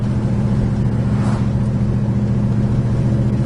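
A 1969 Plymouth Road Runner engine holds a steady low rumble, loud and close, with a brief rising swell as the car pulls away.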